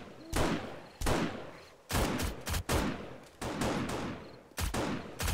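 SMG fire in the game 7 Days to Die during a horde night, rendered as distant gunfire: repeated loud bursts of rapid shots with short gaps between them, rolling on and off through the whole stretch with no talking.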